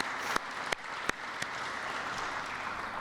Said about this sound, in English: we've got to give a round of applause and thanks to ComEd for their support on this project